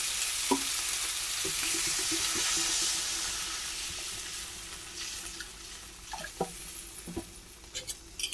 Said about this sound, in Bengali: এখন গ্রেভির জন্য জল দিয়ে দেবে